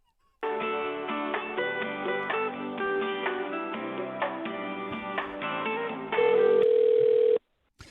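Tinny, narrow-band music plays steadily through a telephone line while a customer service caller waits on hold, ending in a sustained tone before cutting out.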